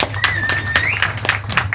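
Scattered audience clapping at a lab accreditation presentation, a few sharp claps spaced out over under two seconds, with a steady hum and a tonal whine underneath.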